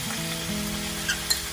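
Chili paste sizzling steadily in a pan during a Thai tom yum seafood stir-fry, a close, continuous fry with a couple of brief sharp crackles near the end.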